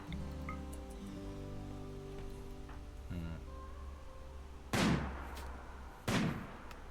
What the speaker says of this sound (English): Is the blind lady firing the mortar?